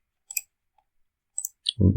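A computer mouse gives a few sharp, close clicks spread over quiet gaps, followed by a short low thump at the end.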